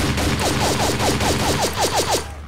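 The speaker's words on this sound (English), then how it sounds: "Let's roll around with an assault rifle" An assault rifle fires a steady rapid burst of about a dozen evenly spaced shots in a video game set in evening back alleys, loud and close, then stops.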